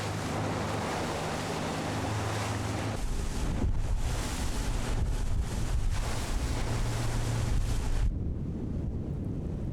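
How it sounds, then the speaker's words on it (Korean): Rough sea waves break against a small rocky island off Dangjin on Korea's west coast, a continuous loud roar of surf and spray with heavy wind buffeting, swelling in bursts and easing near the end. "거친 파도를 온몸으로 막고 있다"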